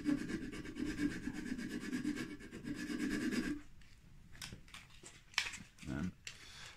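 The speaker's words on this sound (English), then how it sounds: "you can get a little bit of sandpaper, wrap it around a bit of dowel, just a little bit of clean up." Sandpaper wrapped around a dowel rubbing a wooden glazing bar, a steady rhythmic scraping for a few seconds, then shorter, scattered strokes, close and fairly quiet.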